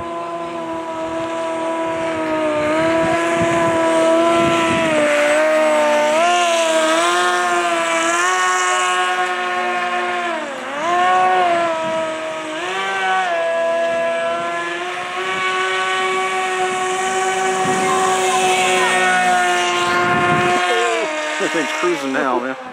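A radio-controlled hovercraft cruises into the wind, its motor holding a steady, loud buzzing whine whose pitch rises and dips as the throttle changes, continuous throughout.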